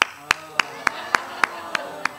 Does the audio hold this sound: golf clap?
yes